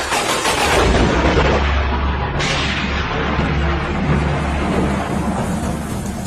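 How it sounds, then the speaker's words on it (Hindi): A heavy downpour hisses steadily while thunder rumbles low and deep underneath, with a sharp crack-like burst partway through; there is no talking. "बहुत ही तेज बारिश होने लगी और बादल गरजने लगे।"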